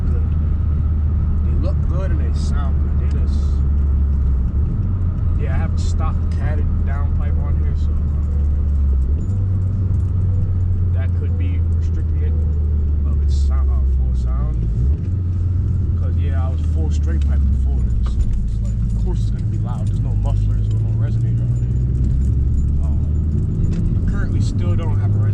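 Exhaust of a 2019 Honda Accord fitted with Drift Dialect mufflers and no resonator, a deep steady low drone with shifting pitch as revs change, loud and close, with a person talking over it.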